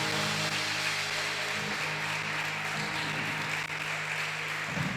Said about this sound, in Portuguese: Salva de palmas para Ele, que vive e reina para todos sempre.